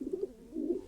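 A male Jacobin pigeon strutting near a female gives two soft, low cooing phrases, close and quiet, with a short pause between them.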